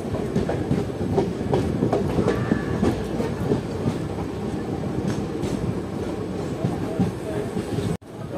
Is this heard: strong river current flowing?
no